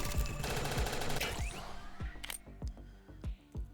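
Rapid automatic gunfire and bursts of shots in the top-down shooter NIMRODS: GunCraft Survivor, a dense loud barrage giving way to a few separate booming impacts.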